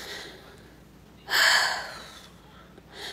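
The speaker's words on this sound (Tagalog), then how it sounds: "Hinihingal ako." A person who is out of breath lets out one sudden, heavy, breathy exhale that fades slowly, followed by fainter breathing close to the microphone, with no talking.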